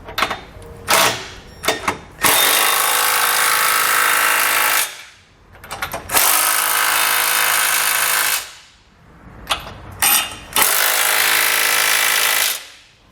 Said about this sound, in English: Now I'm going to come back with a 19mm socket.